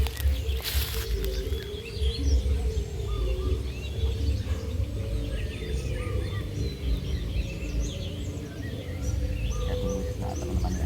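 Wild birds in an East Kalimantan forest, with scattered chirps and calls over a low, steady rumble of background noise, faint and distant.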